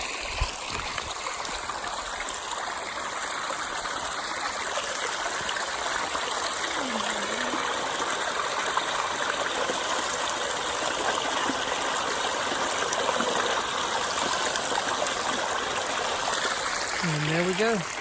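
Stream water on the Appalachian Trail in Virginia is collected with a Be Free filter bottle. The water rushes steadily and close by, with occasional gurgles as the bottle fills.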